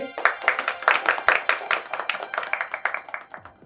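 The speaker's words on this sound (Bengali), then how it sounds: "মুকুলের জন্য একটা হাততালি" Several people clap together for a worker, a brisk, uneven patter of hand claps close by that continues throughout.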